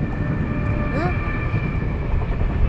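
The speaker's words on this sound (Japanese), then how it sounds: "電車。 金太郎だ。" A Kintaro electric freight locomotive passes near a seaside fishing spot at Asamushi in Aomori, heard as a steady, broad rumble that holds throughout at moderate distance.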